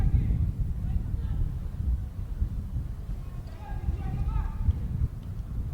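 Wind buffets the microphone in low, rumbling gusts while someone talks over it, outdoors at a cricket stadium.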